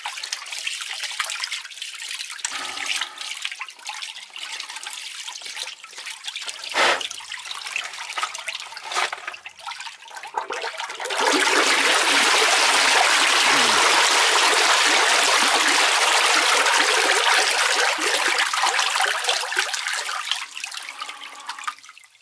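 Laundry water rushes out of a main sewer line after power-snaking. A trickling, gurgling flow with a few knocks surges midway into a loud, sustained torrent that tapers at the end.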